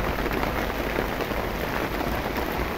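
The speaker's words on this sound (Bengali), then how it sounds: "আর এই যে দেখেন কীরকম বৃষ্টি হচ্ছে, বৃষ্টি হবে।" Rain beginning to fall outdoors under a cloudy sky, a steady soft patter of drops hitting surfaces, even and moderately close.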